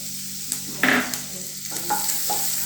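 Chopped garlic and a chilli frying in hot oil while being stirred, a steady close sizzle broken by a few brief scraping strokes of the spoon, with no talking.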